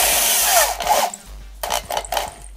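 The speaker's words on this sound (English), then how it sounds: "put it in the hole and start drilling downwards" Power drill spinning a wooden dowel rod down into a drilled hole, a loud whirring grind that cuts off, followed by a few short bursts of scraping wood.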